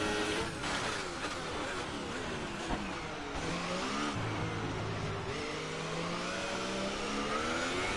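An F1 car engine screams at high speed in a racing video game, a loud sustained whine with pitch sweeps as gears and throttle change, other cars faintly audible.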